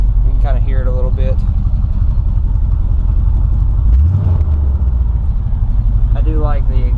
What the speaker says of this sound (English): I do like the exhaust setup on this truck